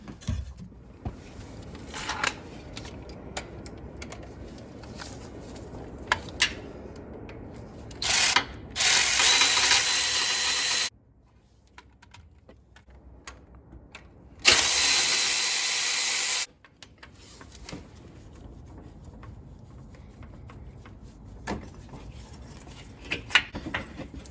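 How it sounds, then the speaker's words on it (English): Socket ratchet clicking as it loosens the 12mm bolts holding the A/C lines on a Nissan Titan compressor, irregular close bursts of ratcheting with pauses and two louder sustained mechanical stretches, no talking. "remove the two 12mm bolts that hold our two AC lines on using a 12mm socket"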